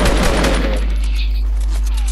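A burst of rapid gunfire in Fortnite, sharp cracks packed into the first half-second, then a quieter tail with a low steady hum underneath.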